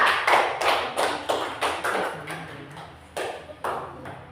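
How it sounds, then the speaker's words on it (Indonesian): A group of young children clap together in a classroom for a classmate named Caca, a series of close, sharp, fairly loud claps in a loose, uneven rhythm, with no talk over them. "Tepuk tangan untuk Caca."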